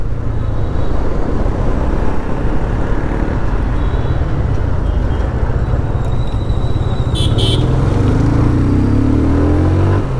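A motorcycle engine rumbles steadily through a U-turn, its pitch rising near the end as the bike pulls away, with constant wind and road noise.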